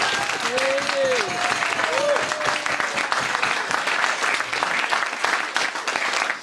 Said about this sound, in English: A round of applause for my granddad Alan